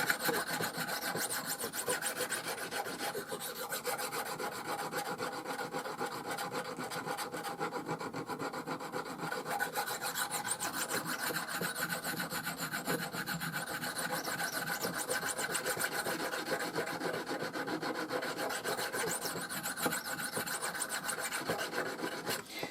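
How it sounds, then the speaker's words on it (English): A knife blade rasps over a banded jasper Viking whetstone in continuous, even strokes, close and steady with no pauses and no talking. "you could keep sharpening your knife"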